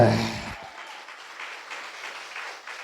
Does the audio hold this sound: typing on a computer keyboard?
no